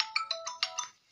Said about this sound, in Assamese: তেওঁ আকৌ এবাৰ ফোন কৰিছে মোক আকৌ ফোন কৰিছে